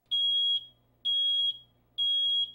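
A typical American home smoke alarm sounds three loud, piercing beeps of about half a second each, evenly spaced in a steady repeating pattern with faint room hum between them and no talking.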